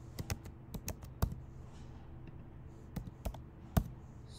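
Typing on a computer keyboard while filling in sign-up details, irregular clusters of crisp key taps with brief pauses between bursts, close and fairly quiet, no voices.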